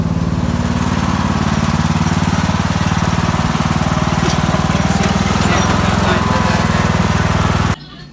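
A lawn mower engine runs steadily at night, a loud, close, buzzing drone with a throbbing low rumble that cuts off abruptly near the end.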